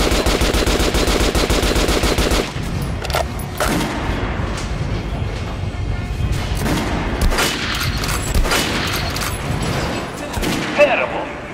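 Rapid automatic gunfire in the video game Metro Last Light, aimed at a target dummy: a dense burst of shots at first, then scattered loud reports and booms through the rest of the clip.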